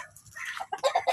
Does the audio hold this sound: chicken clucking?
yes